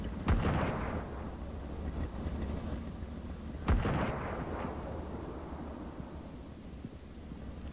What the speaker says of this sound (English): I don't know who's shooting.